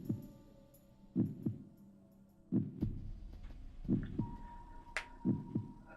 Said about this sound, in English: I like that you can hear Okabe's heartbeat.